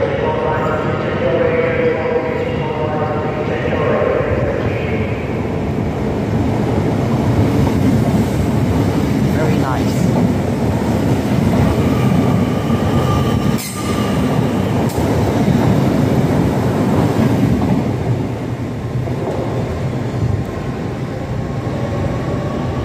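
A train rumbles past nearby at York on the East Coast Main Line, a loud continuous roar of wheels on rails with rhythmic clatter and a brief dip midway, lasting throughout.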